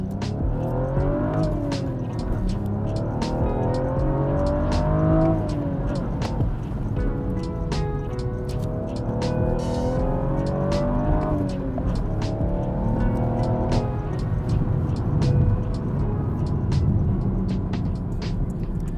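A BMW M135i compact hot hatch driven hard on a dry road, its engine rising and falling through gears with steady tire and wind roar, loud and continuous inside the car.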